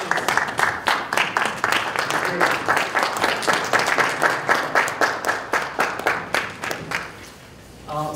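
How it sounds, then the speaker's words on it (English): A Toastmasters club audience gives a standing ovation, rhythmic strong clapping that swells in regular pulses and then fades out near the end. "Let's give a standing applause to Dr."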